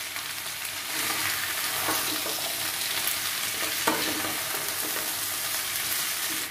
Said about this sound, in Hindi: आप लोगों को लग रहा है कि मैं फ्राई कर रही हूँ। हाँ, फ्राई करना बहुत जरूरी है